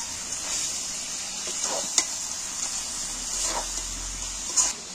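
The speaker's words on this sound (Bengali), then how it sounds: "এইবার আমি নাড়াচাড়া করছি, পেঁয়াজগুলো এর সাথে মিক্সড করে দিচ্ছি।" Fried onions are stirred in a pan while chicken cooks, a soft, steady sizzling hiss broken by a few brief scraping strokes of the spoon; no one talks.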